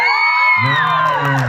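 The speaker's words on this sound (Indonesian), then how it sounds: "Ibu-ibu dari Orban mana tepuk tangannya?" Mothers from Orban cheer at a tournament final, with sustained high whoops and yells from a lively crowd, plus a loud low shout joining midway; no clapping stands out.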